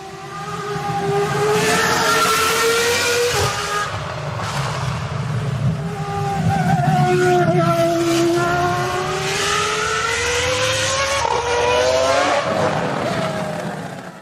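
A Williams FW26 Formula One car with a V10 engine, driven in a racing game at the Canadian Grand Prix, loud high-pitched engine wail rising and falling through gear changes and corners for the whole run, no voices.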